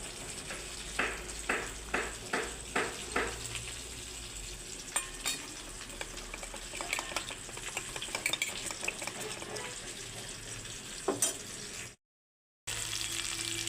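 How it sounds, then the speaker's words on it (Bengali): A spoon stirs spices with water into a paste for a silver carp fish curry, giving close, rhythmic scraping strokes over a steady soft sizzle. The stirring slows later, and there is a brief gap of silence near the end. "এবার আমি এতে একটু জল দিয়ে দেবো জল দিয়ে গুলিয়ে নেব"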